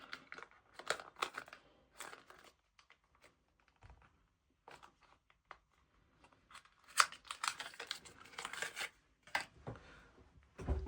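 Washi tape packaging being opened, close quiet crinkling and rustling of plastic in scattered bursts, with a denser flurry of crackling and tearing toward the end.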